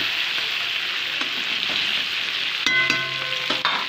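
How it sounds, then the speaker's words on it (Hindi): Chicken curry being stirred in a pan, a continuous close sizzle with a few faint scrapes, then a brief ringing metallic clink near the end. "इसको मैं थोड़ी देर अच्छे से चला ले रही हूँ।"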